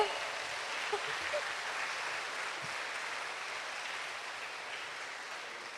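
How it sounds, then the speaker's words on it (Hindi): An audience at a lecture claps steadily, a dense even wash of applause that holds for several seconds and slowly eases. "तालियां बजाते रहिए।"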